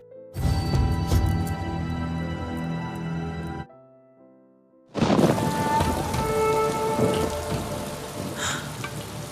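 Heavy rain pours with a dense crackling hiss and low rumbles as a drama sound effect, cutting out briefly to a quiet tonal pause before the downpour resumes just as loud.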